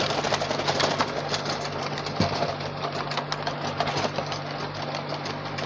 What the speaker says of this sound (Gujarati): પીટીઓના બીજા ગેરમાં ચલાવે છે અમારું રોટાવેટર જે મિક્સુબીસીનું મહિન્દ્રાનું રોટાવેટર છે અને મિક્સુબીસી ટ્રેક્ટર છે